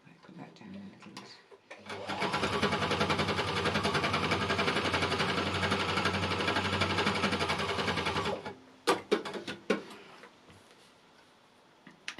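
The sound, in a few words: embellisher machine running over curtain interlining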